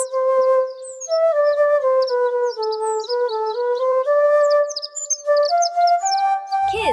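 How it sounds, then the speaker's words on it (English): A robin sings bright, rapid chirps and whistled notes over a steady, sustained melodic backing throughout, with no talking. "This is a robin. Robins are known for their very sweet and beautiful songs."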